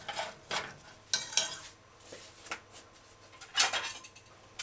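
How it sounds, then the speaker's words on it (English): A saucepan of curry powder and oil being shaken and stirred on the stove, giving intermittent scraping, rattling bursts with a soft sizzle between them, close and moderately loud, no talking. "You can shake the saucepan."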